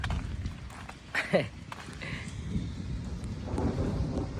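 Thunder rumbles low and drawn out amid falling rain in Saudi Arabia, swelling toward the end, with a few sharp knocks nearby.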